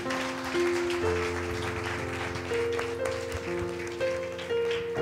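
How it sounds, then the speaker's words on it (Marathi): A church congregation claps together in a steady patter for several seconds during a Sunday sermon, with faint musical tones sustained underneath. "देवाच्या वचनाबद्दल जरा टाळ्या वाजवूया."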